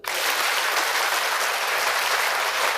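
A crowd claps loudly and continuously, a dense steady wash of applause with no pauses or voices.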